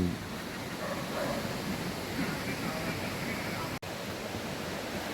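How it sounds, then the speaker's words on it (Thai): Sapan waterfall in Nan province, a steady broadband rush of falling water heard up close and continuous throughout, with a brief dropout near the end. "น้ำตก สปันจังหวัดน่าน"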